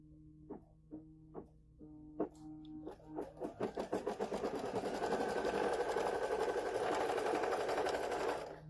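A sewing machine stitching quilt blocks starts with a few slow single needle thumps that speed up into a steady, close, loud mechanical whir running continuously to the end.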